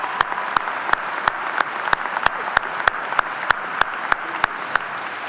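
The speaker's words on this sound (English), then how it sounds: "Please join me in a round of applause." A ceremony audience applauds at a 2018 high school graduation, steady clapping throughout with regular sharp, loud claps standing out close by at an even rhythm.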